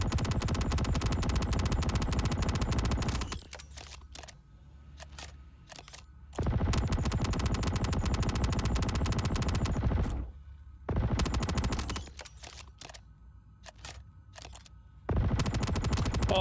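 SMG fire in the video game Frontier Fighters, long sustained automatic bursts of rapid shots broken by short pauses, loud and close with no talking.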